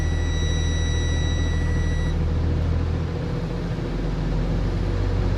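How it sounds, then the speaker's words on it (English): A school bus diesel engine idling with a loud, steady low rumble throughout, and a high electronic tone sounding during the first couple of seconds before cutting off. "then you'll simply start the bus"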